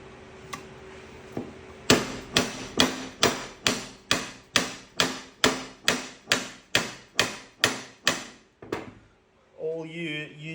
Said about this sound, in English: So that is knocking that bearing housing inside the case.